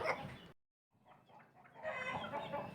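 Black chickens clucking in a henhouse, close, busy clucking and chatter, broken by a short silence, then quieter clucks building back up to a dense chorus.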